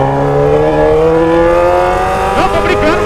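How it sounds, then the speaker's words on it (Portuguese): A small motor scooter engine revs hard and steadily close by, its pitch rising and wavering, with a brief rattling burst near the end. "E aí, Bruno, dá um grau com essa lambreta aí"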